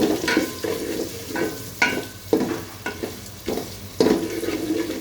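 A cup of onions fries in a pan for spiced khichuri, stirred vigorously so that repeated scraping strokes sweep over a close, steady sizzle about twice a second, with no voices.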